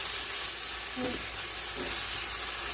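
Meat searing while being stir-fried in a pan for Puerto Rican-style peasant's rice, a steady hissing sizzle with a couple of brief scraping stirs.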